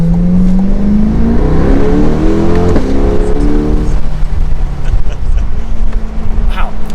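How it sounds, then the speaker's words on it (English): A 2022 Chevrolet Corvette C8 R Edition convertible with a dual-clutch transmission accelerates hard, its engine note climbing loud and close through rising revs, with a quick shift before settling into a steady roar. "It really does accelerate so fluid and smooth, and this dual clutch is amazing."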